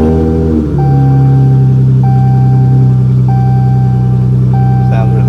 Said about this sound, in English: All right, foot on the brake, start her up.